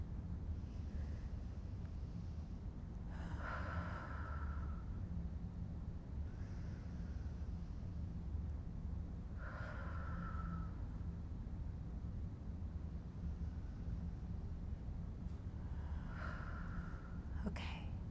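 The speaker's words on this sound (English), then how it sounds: "So some deep breaths." Slow deep breathing during a relaxation exercise in a dystonia therapy session, three or four soft, airy breaths spaced several seconds apart over a low steady background hum, faint and close.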